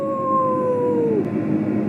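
A single long howl from a canine, loud and close, holds a steady pitch and then slides downward before fading into a low background rumble.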